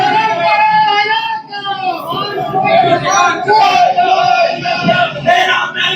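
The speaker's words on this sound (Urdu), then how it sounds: "یہاں پر جناب یہ راولپنڈی میں عمران خان کے نعرے لگ رہے ہیں" A protest crowd on the streets of Rawalpindi chanting slogans for Imran Khan, many voices rising and falling together in a loud, continuous, rhythmic chant close by.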